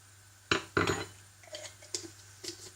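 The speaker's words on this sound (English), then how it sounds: "I'm going to give that a little mix up in my pot" Spices including turmeric and garam masala are stirred in a pot, giving a few sharp utensil knocks and scrapes against the metal followed by lighter, scattered clinks, close and fairly quiet.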